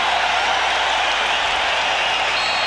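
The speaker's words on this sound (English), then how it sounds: "This capacity crowd at Chicago Stadium looking to pump up the home team" A capacity crowd roars steadily inside Chicago Stadium during a 1992 playoff basketball game between the Bulls and the Knicks, a dense wash of cheering and applause that holds constant throughout.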